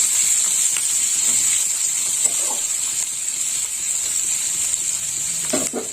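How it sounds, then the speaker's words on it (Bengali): Chopped onion, cut into fairly large pieces, fries in hot oil for a fish curry, giving a steady bright sizzle with occasional soft stirring clicks and no voices. "পেঁয়াজটা একটু লাল লাল করে ভাজা হবে"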